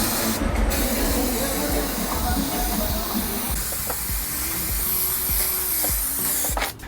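A second coat is sprayed onto yacht cushion material as a continuous, close hiss that runs almost the whole time, with soft background clatter and a short break in the spray near the end.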